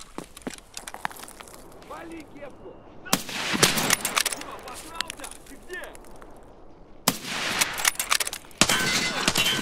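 Gunfire in the shooter Escape from Tarkov during a siege on Ground Zero, sharp bursts of rapid automatic shots in clusters with sudden loud volleys separated by quieter gaps, someone speaking between them.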